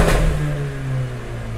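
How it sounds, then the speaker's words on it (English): Mercedes-Benz CLA45 AMG with an Armytrix valvetronic exhaust revving with the valves open, a loud close engine roar that holds a steady pitch and eases off slightly toward the end. "By pressing the on button, you can hear how much louder it is."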